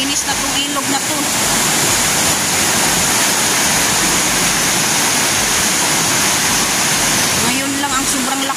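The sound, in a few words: flooded river rushing after heavy overnight rain, Piñan River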